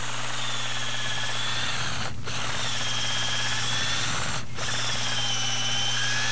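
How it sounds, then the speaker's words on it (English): A power drill with a quarter-inch bit bores into a tree log, giving a steady high whine close by with two short pauses where the motor drops off before spinning back up. "We're just going to drill a quarter inch diameter hole into the tree."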